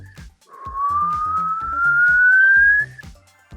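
A voice imitates an electric car with a thin whistle that slides steadily upward in pitch, heard over a rhythmic thumping beat.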